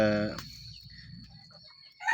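A rooster or hen gives a loud harmonic call at the start, then quieter clucks and farmyard rustling follow, with another sharp call near the end.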